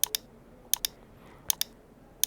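A computer mouse is clicked during setup of streaming software, giving crisp double clicks in three quick pairs with short pauses between them. A faint room hiss sits underneath and no one speaks.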